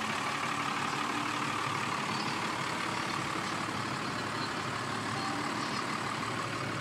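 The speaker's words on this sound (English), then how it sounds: "when you've got an exhaust that big with that engine, we're going to have to turn it on" Ford F100 pickup truck with a diesel engine and large exhaust, idling at a truck show; a steady, rumbling drone holds at even loudness throughout with no voices.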